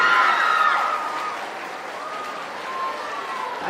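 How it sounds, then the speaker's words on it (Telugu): An audience at a school intermediate freshers' party applauds students, a steady wash of clapping with some cheering that eases slightly midway and swells again near the end. "Big applause."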